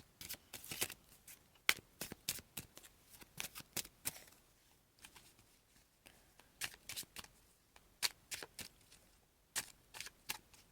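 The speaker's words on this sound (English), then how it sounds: "I'm going to shuffle up some extra cards" Tarot cards being shuffled close up, quick riffling bursts and soft slaps repeating in uneven clusters, with no talking over them.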